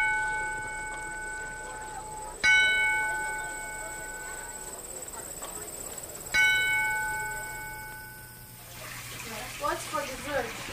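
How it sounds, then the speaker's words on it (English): A large farm bell at the Bread and Puppet Theater is struck twice, each clang ringing out with a long, bright, shimmering decay that marks the end of a rehearsal or meal, followed by faint chirping. "We use a bell to mark the ends of rehearsals and the meals and things like that."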